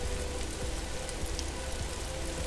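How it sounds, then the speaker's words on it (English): Hail falling outdoors beside a koi pond, a dense steady patter of pellets hitting surfaces and water, continuous and fairly quiet, with no voices. "Now to make the mix a bit more interesting, it's hailing."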